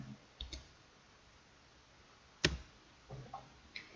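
Keystrokes on a computer keyboard while entering a number: a few sparse, light clicks, one sharper tap standing out, close and quiet with no talk.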